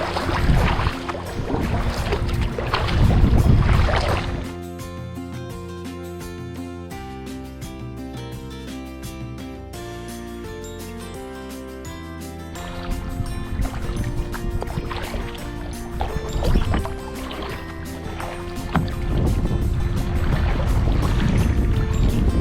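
A kayak moves across Lake Huron's Saginaw Bay near Port Austin, Michigan. Paddle splashes and water swish come in bursts with a calmer stretch between, over wind rumble on the microphone.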